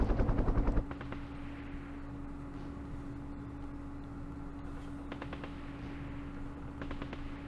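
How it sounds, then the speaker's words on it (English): Machine gun fire in the Vietnam war game Campaign Series Vietnam: a brief rapid burst at the start, then a steady low engine-like hum with faint, distant rattling bursts later. "Oh, it's a machine gun."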